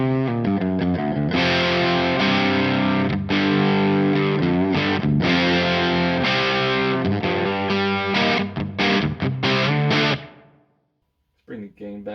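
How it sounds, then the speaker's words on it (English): A guitar run through a Frost Giant Electronics Mountain V3 distortion pedal at a low gain setting into a Laney amp plays sustained, thick overdriven chords for about ten seconds, then cuts off abruptly before a short final stab. "Now we're into a really cool EQ for this low gain sound."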